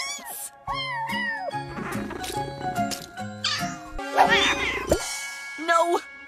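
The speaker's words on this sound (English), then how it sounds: "Domino 2 has kittens?" Small cartoon kittens in an animated show meow repeatedly in high, rising and falling cries, several voices overlapping over a steady musical backdrop, with a brief break before a final louder burst of mewing.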